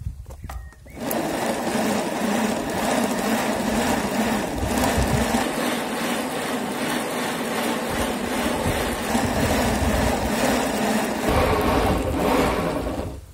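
Homemade bicycle home trainer rollers spin with a steady mechanical whir and rhythmic rumble that begins abruptly and runs continuously, loud and close, with no voices.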